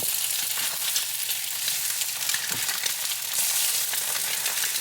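Eggs frying in a pan for a homemade meal, a loud continuous crackling sizzle with sputtering pops throughout, heard up close with no talking.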